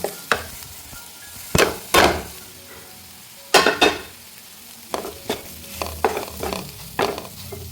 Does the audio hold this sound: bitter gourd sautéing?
yes